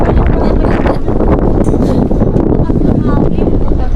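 Strong wind blasts the microphone outdoors near a bridge in Vietnam, a continuous loud rumbling buffeting that fills the whole stretch without letup.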